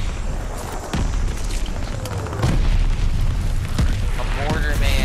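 Mortar explosions in a video game: deep, rumbling booms and continuous blast noise that swell louder about halfway through, with sharp impacts and mixed battle sounds layered throughout.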